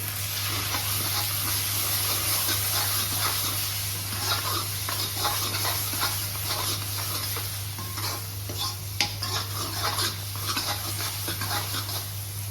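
Masala sizzles in ghee in a pan while being roasted as filling for stuffed bitter gourd, a continuous close frying crackle with intermittent stirring scrapes and a steady low hum underneath.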